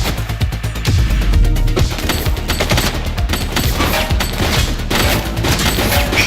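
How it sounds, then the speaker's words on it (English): Dense gunfire rattles through a police shootout in a video game, with rapid automatic bursts, heavy booms and crashing impacts running loud and continuous, with no speech. "Shots fired!"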